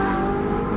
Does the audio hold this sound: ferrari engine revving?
yes